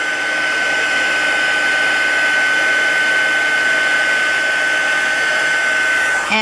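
A heat tool runs in one loud, continuous blowing whir as it melts embossing powder over foil for a tarnished foil effect, holding steady without pause.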